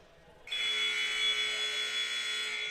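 A loud, sustained electronic buzzer in a gym at a men's college volleyball match starts abruptly after a brief quiet moment and holds steady, with faint room noise beneath.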